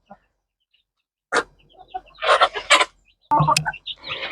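Fifteen young chicks in a grilled poultry coop give short, sharp chirps and peeps in scattered bursts separated by silences, close and fairly loud.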